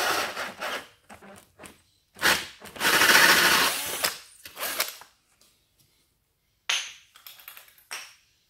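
Power drill running in reverse, cutting through drywall on a structural insulated panel wall: whirring in short bursts, one longer grinding run in the middle, broken by pauses of near silence.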